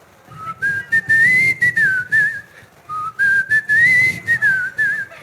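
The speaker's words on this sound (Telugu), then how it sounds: "ఒక్కసారి విజిల్ విజిల్ విజిల్ బాబీ గారు ఒకసారి విజిల్ వేయాల్సిందే." A man whistles a melody on stage at a film success event, two clear rising-and-falling phrases with brief pauses, loud and close with no talking.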